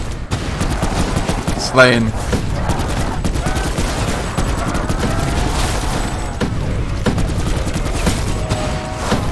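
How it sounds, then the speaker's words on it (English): Pack-a-Punch minigun in Black Ops 4 zombies fires in continuous rapid bursts with a booming shot near the start, close and loud throughout, while a player talks over the gunfire. "We just got a pack a punch minigun"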